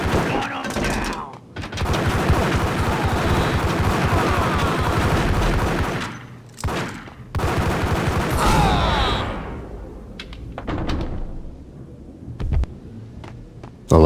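Gunfire in Max Payne: sustained bursts of loud, rapid shots for several seconds, a brief pause, another volley, then scattered single cracks fading toward the end.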